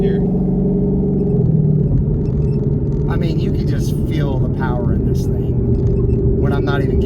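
The modified Mustang GT's engine rumbles steadily and loudly from inside the car while driving, its low drone shifting pitch slightly partway through, with people talking over it.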